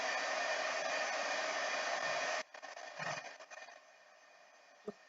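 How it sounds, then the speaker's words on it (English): A heat gun drying a chalk transfer roars steadily and close for about two seconds, then cuts off, leaving faint handling noises and a small knock. "Now what I want to do is, this is a heat gun."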